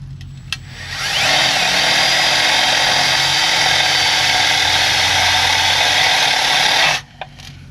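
A drill with a worn, bad bit bores through a metal back plate for a truck light bar, a loud harsh grinding rasp. It starts after a short click, holds steady for about six seconds, then stops abruptly.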